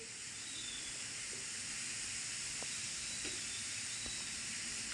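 Onion roasting in a pan, a constant broad sizzling hiss that holds steady throughout with a few faint ticks, quiet and without voices.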